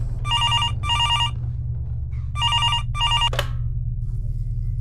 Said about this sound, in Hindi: अभी वो घर पहुंची ही थी कि उसका फोन बजा।